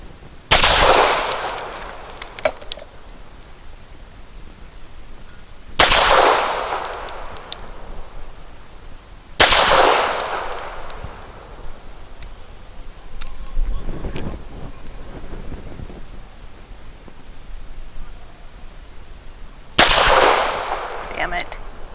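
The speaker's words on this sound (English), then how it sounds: "I'm just gonna shoot now because I can't talk." An Arsenal Firearms Strike One pistol firing Nosler 147 grain rounds at a range, four loud, sharp reports spaced several seconds apart, each with a long ringing decay and wind noise between them.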